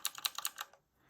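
Typing on a mechanical keyboard: a short quick burst of about six crisp, clicky keystrokes close up, then a near-silent pause with faint room tone.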